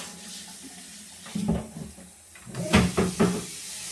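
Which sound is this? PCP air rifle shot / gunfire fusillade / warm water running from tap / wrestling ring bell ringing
warm water running from tap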